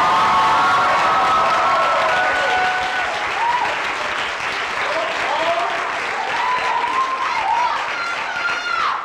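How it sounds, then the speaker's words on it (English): Sustained audience applause with cheering at a high school pops choral concert honoring graduating seniors, a dense steady roar of many hands filling the whole stretch, with scattered whoops and shouts rising above it. "one more round of applause for class of 2019"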